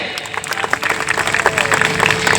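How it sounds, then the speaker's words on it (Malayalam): An audience claps at a stage music show (ganamela) in Thiruvananthapuram, a loud, dense burst of many hands applauding together close by for a couple of seconds. "നിറഞ്ഞ ഒരു കൈയടി തരാമോ എനിക്ക്?"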